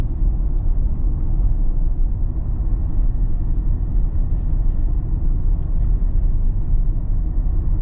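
A lifted new Toyota Tacoma with a 2.4 engine and big tires drones along steadily while driving, giving a constant low rumble of engine and road noise from inside the cab.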